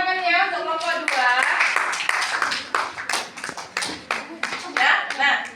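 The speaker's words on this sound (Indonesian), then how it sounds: "beri tepuk tangannya untuk kelompok 2" Classmates clap for a student group in a classroom, quick uneven hand claps near the mic, with talking heard at the start before the clapping takes over and thins into scattered claps.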